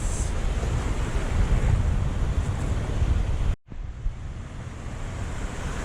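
Ocean waves breaking on a shore in strong stormy wind, a loud continuous roar of surf and wind buffeting with one brief dropout.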